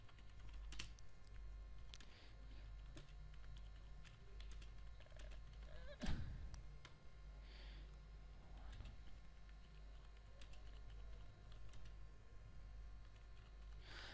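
Someone types an address into MS Word on a computer keyboard, with quiet irregular key clicks over a low hum and one louder knock midway, no voices.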